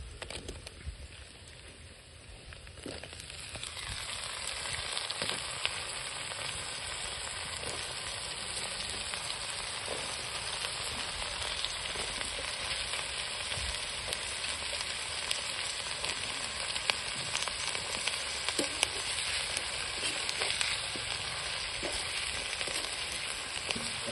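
Brinjal pieces fry in hot oil with curry leaves and turmeric for a village-style brinjal and dried fish curry, a steady, close sizzle that swells after a quiet start and continues with faint crackles and no talking.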